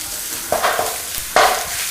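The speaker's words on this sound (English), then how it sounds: "all you're going to do is brown your meat" Spicy Italian sausage hits a hot pan and browns with a bright sizzle, as two quick stirs of a spoon scrape through the meat at close range.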